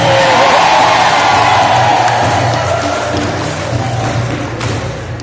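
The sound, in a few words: audience applause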